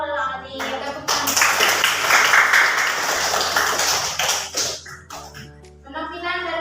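A classroom bursts into applause, many hands clapping loudly together for about four seconds, with talking just before and after the clapping.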